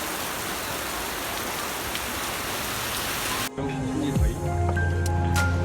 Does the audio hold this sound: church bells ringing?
no